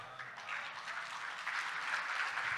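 A crowd applauding at a political rally in Malaysia, with steady distant-sounding clapping that holds at a constant level throughout, and no clear voices over it.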